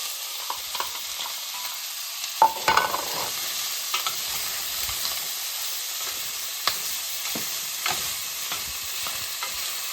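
Half a diced onion fries in a tablespoon of oil in a pot for a one-pot beef taco mac, giving a thin, steady sizzle with a few sharp pops and utensil clicks near the start.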